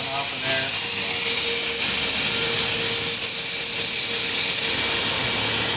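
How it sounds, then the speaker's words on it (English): A loud, steady hiss of water boiling off runs without a break, like sizzling steam, with no one speaking. "See that water boiling off in there?"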